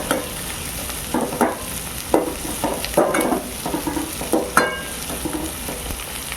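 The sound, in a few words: chopped onions frying in oil for chicken gravy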